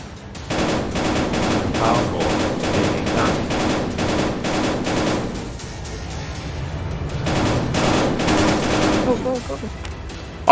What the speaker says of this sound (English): I was shooting that power core, baby.